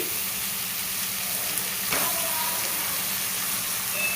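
Half a kilo of washed mutton keema mince tipped into hot oil, giving a loud, continuous broadband sizzle and hiss that swells slightly as the meat goes in and carries on steadily.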